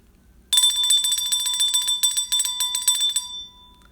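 A bell rings in a rapid, bright metallic trill that starts abruptly, holds loud and close for about three seconds with a few brief gaps, then cuts off into near silence.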